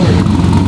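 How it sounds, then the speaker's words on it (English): A Dodge Viper sports car's exhaust gives a quick, loud rev close by, a short throaty burst of engine noise. "The Viper, the exhaust is over here, Dave."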